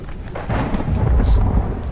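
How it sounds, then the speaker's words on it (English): Thunder rumbles over steady rain in the survival video game Jaws of Extinction, a deep, swelling roll building through the middle with a continuous wash of rain on surfaces. "Once again, it's raining."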